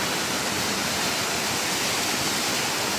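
Rushing water of Ditumabo Mother Falls in San Luis, Aurora roars steadily and close, a dense, unbroken wash of sound with no voices.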